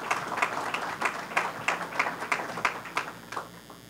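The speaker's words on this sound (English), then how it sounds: "You are welcome to applaud funding for all your projects." Audience applause at a government announcement at Boricua College: a small crowd clapping in an irregular patter that fades out near the end, fairly faint and distant.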